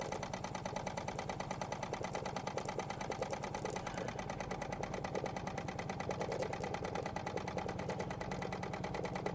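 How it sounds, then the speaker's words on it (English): Running on under half a bar of steam, a Wilesco D20 toy steam engine keeps up a soft, rapid, regular ticking chuff, close and unbroken for the whole stretch with no talking. "it's another Wilesco that runs so smoothly"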